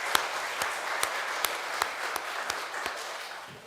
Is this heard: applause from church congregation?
yes